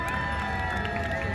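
Crowd cheering and shouting for racing pigs at a strawberry festival, a steady, dense roar of voices lasting only a moment without a break.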